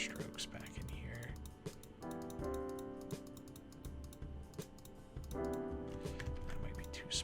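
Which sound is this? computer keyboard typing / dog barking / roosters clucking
computer keyboard typing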